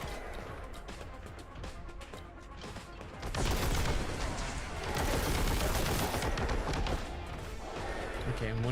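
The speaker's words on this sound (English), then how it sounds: "when we shoot the heavy bolter, we actually slow down and stop, basically" Heavy bolter in Warhammer 40K Boltgun VR hammers out dense, continuous gunfire, quieter at first, then a loud sustained barrage of rapid booming shots up close.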